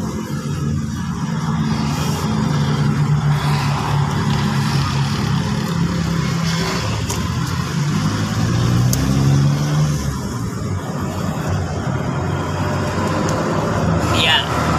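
A 2016 Suzuki Swift's engine running steadily, with a low rumbling hum that holds at a constant level under someone talking throughout, plus a few faint knocks and clicks nearby.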